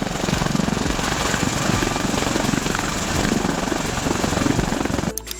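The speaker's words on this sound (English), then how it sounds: "Tilt rotor, an aircraft that combines the vertical lift capability of a helicopter with the speed and range of a fixed-wing aircraft." A tilt-rotor aircraft in flight gives off a steady, close rotor thrum with rhythmic blade chop and engine whine, holding loud and constant for several seconds before cutting off abruptly.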